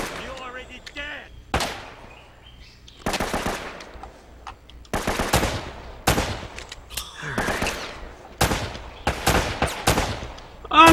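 Gunfire in the video game Uncharted: Drake's Fortune, with bursts of automatic shots and single cracks scattered across the stretch, loud and close, while a player talks excitedly between them.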